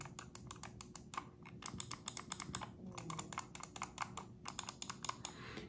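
A computer mouse button is clicked rapidly and repeatedly at close range, each crisp tick sounding alone in quick irregular bursts with short pauses.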